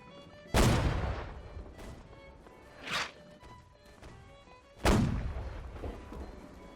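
Cannon fire from an enemy brig sloop in a Holdfast: Nations At War naval battle: two heavy, booming blasts several seconds apart, each with a long rumbling tail, and a softer distant thump between them.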